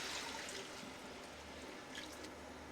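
Water is poured into a chicken curry cooking in a pan: a soft, continuous splashing trickle, faint and close, with no voices.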